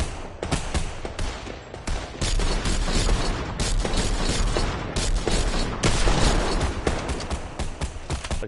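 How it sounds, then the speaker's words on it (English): Rapid assault rifle bursts in a Fortnite match fire nearly nonstop, dense loud cracking gunfire layered with booms and clatter, with only brief gaps between volleys. "That's not even really good suppressing fire"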